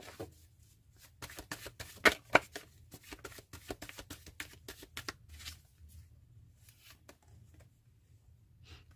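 Tarot cards are shuffled by hand in a steady run of soft, rapid riffling flutters and light slaps, close and fairly quiet, with no talking.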